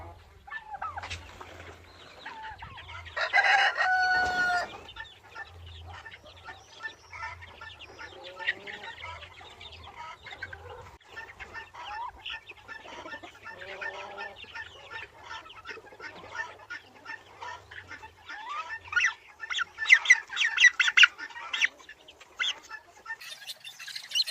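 A turkey hen courts a tom, giving a long run of soft clucks, chirps and purring calls. Other poultry chatter busily nearby, with a brief louder squawk early on and a low hum at the start.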